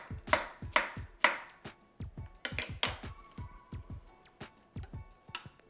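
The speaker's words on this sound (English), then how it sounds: "I'm gonna take a little bit of cucumber, straight down the middle" A knife cuts a cucumber straight down the middle on a board, giving a run of close, crisp chops and taps in an irregular rhythm, fairly quiet and with no talk.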